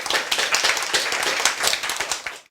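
A short burst of applause at a lecture, many hands clapping quickly and loudly, close by, dying away abruptly at the end.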